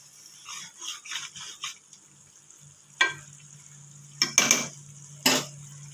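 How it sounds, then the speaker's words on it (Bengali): Fried prawn pakoras dropped into chilli sauce in a pan, a quiet sizzle with soft scraping and stirring strokes, a few sharper clinks of a spoon against the pan, close and low in level, no talking. "এবার পকোড়াগুলো দিয়ে দেবো।"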